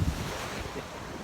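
Ocean surf at a beach in San Juan, La Union: a steady, loud wash of breaking waves mixed with gusty wind buffeting the microphone, continuous with no clear gaps.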